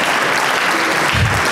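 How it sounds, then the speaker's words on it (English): An audience at a startup incubator event gives a dense, steady round of applause for a presentation, heard as a brief, loud burst of clapping. "Nice round of applause for Porta Coaster."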